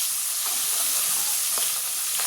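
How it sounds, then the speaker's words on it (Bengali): Spiced, marinated fish sizzles steadily in a hot pan, a dense bright hiss with a few soft pops and crackles, fairly quiet and alone. "মাছটা আমি সব কিছু দিয়ে মাখিয়ে নিয়েছি, এখন ভাজার জন্য দিয়ে দিলাম"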